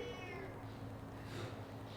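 A cat meows once near the start, a short tonal call over a steady low background hum, followed by continuous noise.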